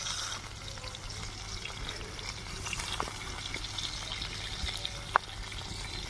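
Fish fries in a wok with only a little oil, making a constant low crackling sizzle nearby, broken by a few small pops and one sharp clink.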